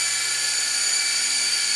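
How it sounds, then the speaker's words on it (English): A Syma S032G toy RC helicopter flies indoors, its small motor and rotors giving a steady, loud, high-pitched whine that holds level throughout, with no voices. "The helicopter backs up."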